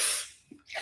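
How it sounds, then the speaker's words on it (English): A single sharp human sneeze bursts out close to the microphone at the start, a breathy spray that quickly fades, followed by a short breath. "I'm sneezing now."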